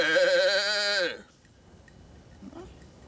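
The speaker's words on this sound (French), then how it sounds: "La chèvre chevrotte dans sa barbichette" A goat gives one long, wavering bleat in a children's television show, loud and close for about a second before it fades, with faint sounds afterward.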